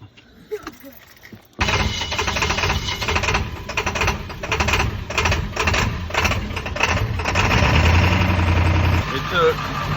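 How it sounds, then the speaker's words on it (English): A 7.3 diesel engine that lost its fuel prime after running out of fuel cranks after a short quiet pause, then catches into a loud, steady, rattling diesel idle that runs close and continuous to the end. "it should crank right up."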